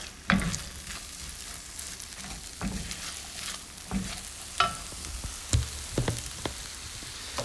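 Eggs are mixed in a frying pan with a spatula, giving a constant sizzle broken by repeated scraping taps and knocks at an uneven rhythm, close and clear with no talking.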